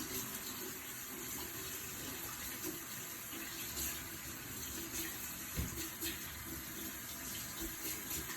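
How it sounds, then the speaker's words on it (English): Water runs steadily from an indoor kitchen tap while hands are washed, a faint continuous hiss and splash with occasional small shifts in the flow. "I need to wash my hands really quickly"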